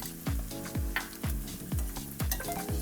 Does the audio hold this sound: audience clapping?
no